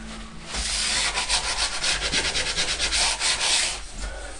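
Sandpaper rubs quickly back and forth over an old enamel-painted surface, a close, dry scratching that comes in rapid, regular strokes for a few seconds.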